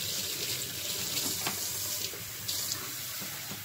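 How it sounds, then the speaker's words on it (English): Kitchen sink tap running hot water for hand washing during breakfast cooking, a steady close hiss of flowing water with small splashy variations throughout, no talk. "Give me a minute to wash my hands here."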